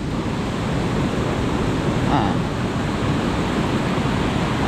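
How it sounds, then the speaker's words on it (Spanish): A fast river rushes loudly past a broken, collapsed road in Cusco's VRAEM region, a steady broadband roar that fills the scene. A brief voice exclamation occurs partway through. "El río está terrible."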